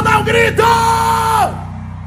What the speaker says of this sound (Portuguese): Quem gostou, dá um grito!